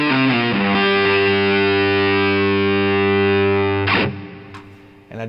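Electric guitar through a Zinky True Grit boutique drive pedal at high gain, a loud sustained distorted chord that rings for several seconds before being cut off, followed by a few quieter scratchy picking noises.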